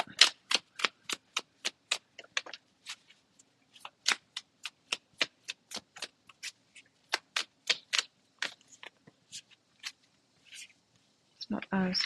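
Tarot cards riffled and shuffled in a steady run of crisp, close slaps and flutters, pausing briefly before a voice begins at the end.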